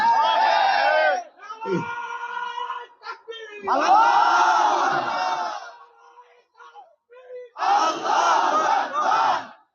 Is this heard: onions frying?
no